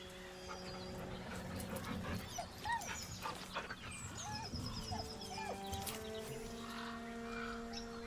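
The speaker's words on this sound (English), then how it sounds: "The dog whimpers nervously" A dog whimpering in the video game Baldur's Gate, with soft high whines and tonal game sounds layered over a continuous background mix for several seconds.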